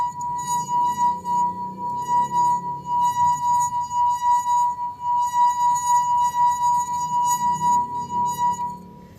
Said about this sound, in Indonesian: celupkan jari ke dalam air lalu digesekkan